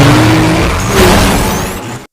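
Street racing cars from a film race start roar loudly and close, engines revving and accelerating in a dense, continuous blast with rising pitch sweeps before cutting off abruptly.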